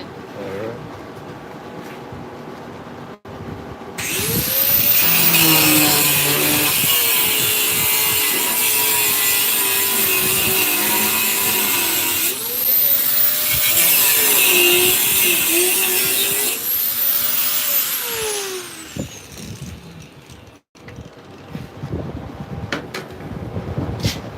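A power grinder cuts into a part on a jeep during a jacking job, loud and close, running in two long sustained bursts with pitch dips as it bites, while people talk nearby.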